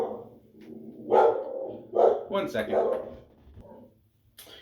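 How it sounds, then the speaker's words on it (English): Dogs bark in a few short bursts, fairly muffled and at a distance indoors, while someone talks over them near the start. "you can probably hear the dogs in the background."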